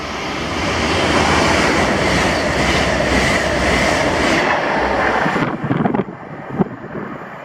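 A London North Eastern Railway passenger train to London King's Cross roars past close by at Kirknewton, Scotland, with a rushing, rattling rumble and wind buffeting, then cuts off abruptly as it clears, leaving quieter clatter.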